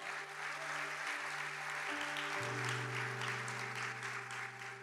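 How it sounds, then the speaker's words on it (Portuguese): A church congregation applauding, a steady wash of clapping at low level under sustained organ or keyboard chords. "aplauda o Senhor pela sua vitória."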